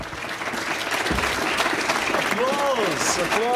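Audience applause fills a 1990 press conference in Lexington, Kentucky, a dense, steady patter of clapping from a room of people, with a brief voice near the end.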